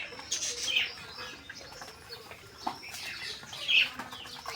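Pigeons stir nearby with soft bursts of wing flapping and faint chirping calls, scattered and quiet over a low background.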